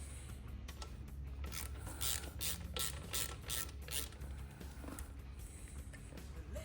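A ratchet clicks in quick bursts while loosening a bolt on a Honda Grom MSX125 engine during an oil change, with close, faint mechanical ticking and short pauses between strokes.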